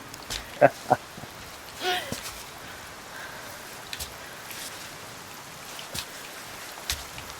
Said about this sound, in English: Here we go again. Comes the rain.